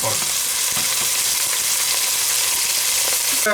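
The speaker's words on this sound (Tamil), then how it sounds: "இந்த வெங்காயமும் மிளகாயும் போட்டு நான் எண்ணெயில் வதக்குறேன்" Onions and green chilies frying in hot oil for a Jaffna-style mutton curry, a steady dense sizzle close up with faint stirring scrapes throughout, no talking.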